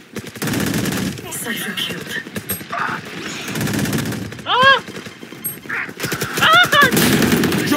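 Rapid bursts of gunfire in the video game Valorant, repeated rattling volleys mixed with game effects and electronic chirps, loud and close, with players talking over the action.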